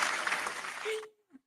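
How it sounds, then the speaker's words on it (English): Audience applause at a talk-show style event, a dense burst of clapping that cuts off sharply after about a second, followed by a brief voice. "That deserves a round of applause."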